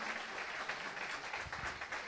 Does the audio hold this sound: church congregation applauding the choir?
yes